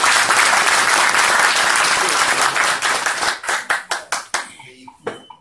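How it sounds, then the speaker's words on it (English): An audience at a community council meeting breaks into loud, dense applause that thins out into a few scattered, separate claps before fading. "Give them a round of applause."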